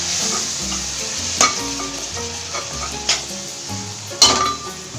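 Finely chopped tomatoes frying in a pan for mushroom pulao, a steady close sizzle broken by several sharp scrapes and clinks of a spoon against the pan, with no voices.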